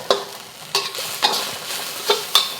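Malaysian spicy green beans stir-fry in a hot pan, a steady sizzle punctuated by about six sharp scraping strokes of a spatula at a brisk, uneven rhythm, close and clear with no talk.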